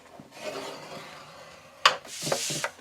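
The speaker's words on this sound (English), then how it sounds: "Score it at 1 inch on all 4 sides." A scoring tool rasps along thick white cardstock with soft, close rubbing strokes, then a sharper scrape and a few short quick passes.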